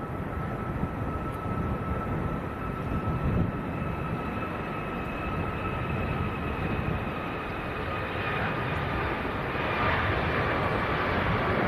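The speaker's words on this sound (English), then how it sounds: "Okay, Ryanair to Tenerife, on the roll, about to pop into view." A Ryanair airliner bound for Tenerife accelerates down the runway at Leeds Bradford Airport on its takeoff roll, giving a steady, distant engine roar that swells slightly toward the end.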